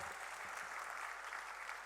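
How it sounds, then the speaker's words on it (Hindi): An audience at a college annual day and convocation ceremony applauds to welcome the President of India, a soft, distant, even patter of many hands in a large hall. "हम सब उनका जोरदार तालियों के साथ बहुत बहुत स्वागत करते हैं"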